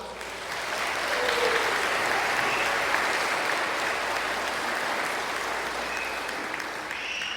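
An audience applauds dental hygiene graduates at a college graduation and pinning ceremony, a loud sustained wash of clapping that swells, holds steady and slowly fades over several seconds.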